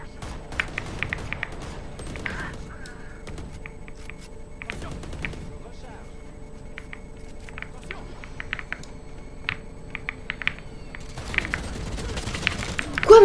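Video game gunfire crackles in quick scattered bursts across the clip, with denser volleys at the start and near the end, over a steady background hum and occasional talk.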